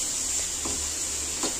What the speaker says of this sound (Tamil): இப்போ வெங்காயம் நல்லா வதங்கிட்டு இருக்கு.